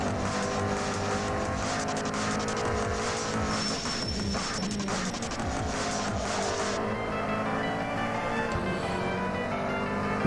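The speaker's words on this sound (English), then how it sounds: "Ferrari's overtaking the Porsche, isn't it?" Racing cars in Assetto Corsa at Watkins Glen, a Ferrari overtaking a Porsche, their engines roaring loud and steady with tire squeal and skidding throughout.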